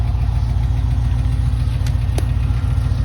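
A truck with a 6.0 engine idles, with a steady low rumbling throb and a faint mechanical ticking underneath, close and continuous with no talk.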